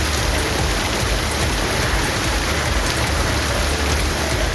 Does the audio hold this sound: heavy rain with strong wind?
yes